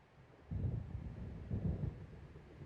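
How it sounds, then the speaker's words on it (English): Low rolling thunder from an approaching storm in the video game Alan Wake, two soft distant rumbles swelling one after the other over a quiet background. "It seems there's a storm coming."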